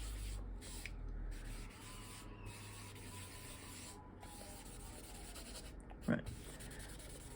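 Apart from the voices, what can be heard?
rubbing to smooth down a coloured cloudy background on paper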